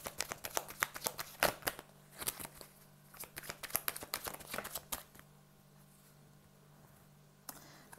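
Tarot cards shuffled by hand during a card reading, a rapid run of crisp riffling flutters and taps up close, then quieter with a last snap near the end.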